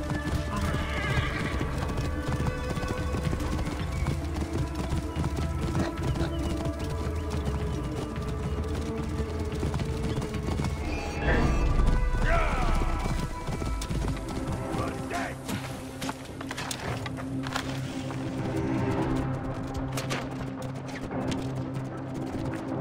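Horse hooves clip-clop steadily in the video game Assassin's Creed Origins, with repeated neighs and whinnies over a busy ambient background, mid-distance and continuous throughout.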